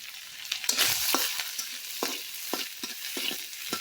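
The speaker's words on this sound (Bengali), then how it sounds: "তেল গরম হয়ে গেছে, দিয়ে দিলাম। এখন পেঁয়াজ কুচিগুলো দিয়ে দিব, তেজপাতা দিয়ে দিব" Chopped onions and bay leaves fry in hot oil in a pot over a village clay stove, giving a steady bright sizzle broken by repeated scraping stirs, close and fairly loud with no talking.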